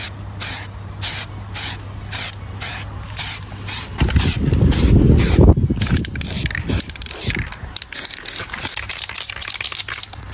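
Spray can priming a Subaru Impreza WRX brake caliper: a run of short, regular hissing bursts up close, then a longer sustained spray, followed by quieter clicks and rattles.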